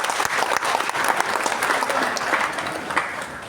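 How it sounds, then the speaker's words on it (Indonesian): Audience applause at an official government gathering in Indonesia, dense and lively clapping from a sizable crowd that continues strongly throughout with no speech over it. "Tepuk tangan untuk Pak Sumarno"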